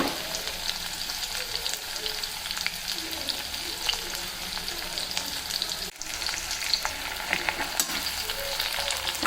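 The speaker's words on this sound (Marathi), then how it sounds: "चांगलं फ्राय होऊ द्यायचं आहे." Cumin, onion and green chilli fry in hot oil for a spiced potato dish, a steady close sizzle with occasional stirring clinks and a brief dip partway through.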